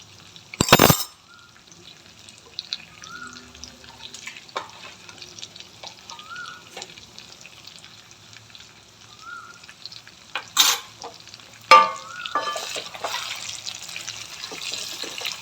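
Cashew chicken frying in butter in a pan, a soft steady sizzle running under the whole stretch, broken by a few sharp clatters of utensils near the start and toward the end.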